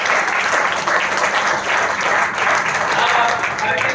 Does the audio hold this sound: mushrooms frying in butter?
no